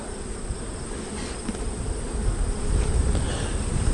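Honeybees hum around open hives during a honey harvest, a dense continuous buzzing drone close by that swells slightly toward the end, with no voices.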